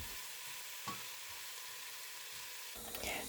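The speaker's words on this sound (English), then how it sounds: "I'm just turning the heat to medium-low and stirring it" Vegetables frying in a pot on medium-low heat give a steady hiss and sizzle while a spoon stirs them, with a few soft scrapes and knocks near the end, no talk.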